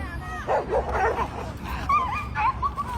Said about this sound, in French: un border collie complètement réactif congénère qui fonce pour aller défoncer un pauvre samoyède